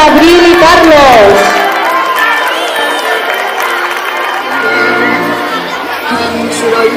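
Crowd of schoolchildren at a Correllengua school celebration cheers and applauds to welcome the flame, a loud continuous mix of shouting voices and clapping with excited chatter throughout.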